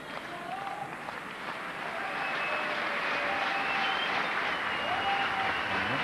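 A tennis crowd at an indoor quarterfinal in Malmö applauds and cheers a Swedish point, sustained dense clapping that swells after the first couple of seconds and stays loud, with faint crowd voices mixed in.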